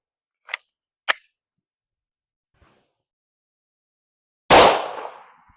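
A Glock 19 Gen 5 with a 4.01 inch barrel fires Hornady 9mm ammunition over a chronograph. Two faint clicks come first, then a single loud, close gunshot with a trailing echo.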